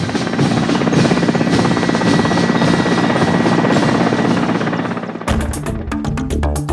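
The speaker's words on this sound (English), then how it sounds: "Early 2011, the airbase gets new Mi-8 AMT-SH helicopters." A Mi-8 AMT-SH military helicopter at an army air base thunders close and loud with dense, rapid rotor chopping and turbine roar, then shifts to a harsher, uneven beating near the end.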